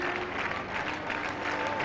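Cricket crowd at an India versus New Zealand T20 tri-nation series final applauding a batsman's century, steady sustained applause from a large stadium audience, fairly distant and even, with faint commentary underneath.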